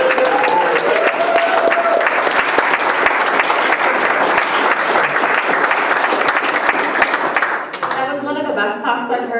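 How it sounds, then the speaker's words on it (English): Audience applause at a talk, dense and loud sustained clapping from a large crowd lasting several seconds before thinning out, with a voice briefly speaking at the start and end. "Can we actually get another round of applause for Phyllis?"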